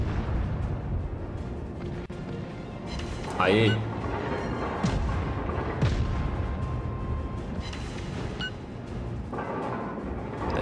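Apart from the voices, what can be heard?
cruiser gunfire from World of Warships video game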